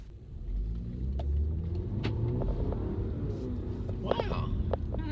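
A 2017 Audi A6 pulls away and accelerates in sport mode, with a steady low engine and road rumble heard from inside the cabin that holds throughout, and a few faint voices and small cabin sounds on top.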